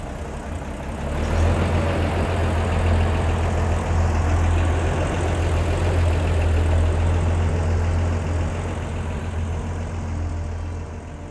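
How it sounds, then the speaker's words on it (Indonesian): A 1979 Toyota Land Cruiser FJ40 hard top with a six-cylinder engine idles steadily and evenly, a deep low rumble holding close and constant with no stumbles or misfires, and no talking over it. "suara mesinnya juga nggak ada pincang, nggak ada brebet"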